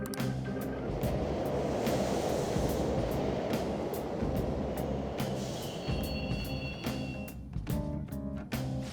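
A train pulls in during the Persona 5 Royal video game, a steady loud rumbling roar that fills the whole stretch, with brake squeals and clanks near the end.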